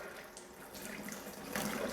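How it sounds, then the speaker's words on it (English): Water is poured or splashed onto a motorcycle fuel tank in a short close burst of liquid hiss and trickle, swelling louder toward the end. "Douse it again with water."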